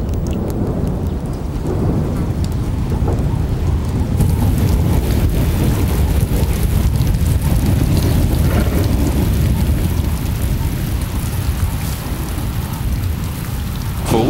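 Heavy rain pours steadily in Tanzanian thorn-tree woodland as thunder rolls and rumbles low beneath it, a dense, loud, continuous storm with no voices.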